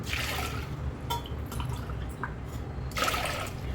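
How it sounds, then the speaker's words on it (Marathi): Water pours and splashes into a pot of lentils in a couple of bursts, with gurgling and light drips in between, close by and fairly loud. "त्याच्या डबल आपल्याला ह्यामध्ये पाणी घालायचं आहे"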